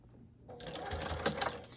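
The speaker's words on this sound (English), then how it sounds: "And then we'll go ahead and top stitch that side panel." A sewing machine top-stitches the side panel of a zippered marine-vinyl makeup bag, with a short burst of fast, even mechanical stitching heard up close after a brief quiet start.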